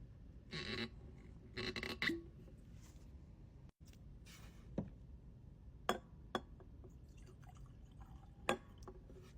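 Bulleit American Single Malt whiskey is poured into a glass, giving quiet drips, glassy clinks and short liquid splashes in a hushed room, with soft handling knocks between them.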